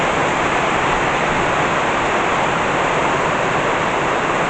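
Heavy rain pours down steadily during a thunderstorm in Burgos, a dense, loud, even hiss of downpour with no pauses and no voices.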